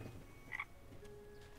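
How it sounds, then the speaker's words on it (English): Frogs croak in the video game Spirit of the Island beside a lake, a couple of quick faint croaks over soft game ambience, with no talking. "Are these frogs? They are frogs."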